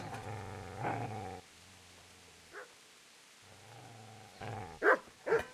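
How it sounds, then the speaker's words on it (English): Dog growling low and continuously with a couple of sharp barks in the game Kingdom Come: Deliverance, close and loud, with a short pause between growls and the barks bunched at the end. "Get away, you mutt!"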